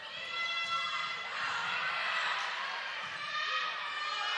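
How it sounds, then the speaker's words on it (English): At a high school varsity volleyball playoff match in a gym, a crowd cheers and chants in unison for a player, a steady, loud wall of voices lasting throughout. "Emma Petzel has her own cheer, as you hear."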